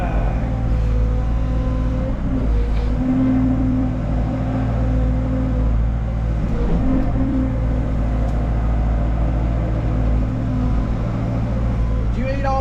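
A truck engine idles steadily and loudly close by, a constant low rumble that lasts the whole stretch without a break, while people talk over it.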